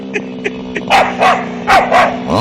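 A Staffordshire bull terrier barks close by, a few short yips followed by a run of loud, sharp barks in quick succession.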